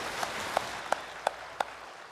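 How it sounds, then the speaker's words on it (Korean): A church congregation applauds during a Sunday worship service, a steady roar of clapping with a few louder, evenly spaced claps standing out. "영광의 박수를 하나님께 드리겠습니다."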